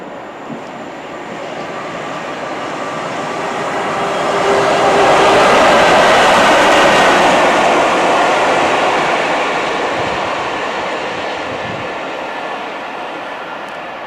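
A freight train passes on the Midland Main Line, a loud rumbling roar that swells to a peak midway and slowly fades, with rhythmic wheel clatter throughout.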